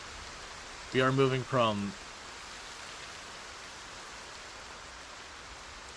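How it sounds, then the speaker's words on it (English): Steady drenching rain in Project Zomboid falls as a constant even hiss throughout, with someone briefly speaking near the start. "We are standing out in the drenching rain."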